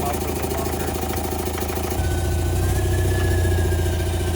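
A cold Volkswagen TDI diesel engine idles steadily in a car, with a loud, even low rumble and a rough rhythmic chatter that grows slightly heavier partway through, continuous and close.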